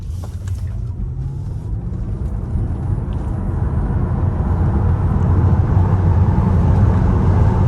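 A car coasting down a mountain road with the throttle released, its engine and tyre rumble rising steadily and filling the whole span, close and continuous with no voices.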